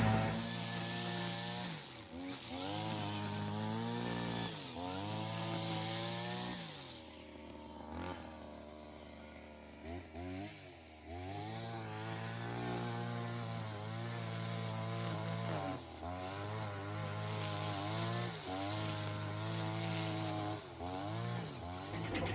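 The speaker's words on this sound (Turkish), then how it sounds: "ot motoru başladı" A grass trimmer motor runs outdoors nearby, its two-stroke engine whining steadily and repeatedly revving up and easing off in rising and falling pitch sweeps throughout.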